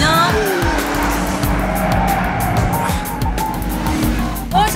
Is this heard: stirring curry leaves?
no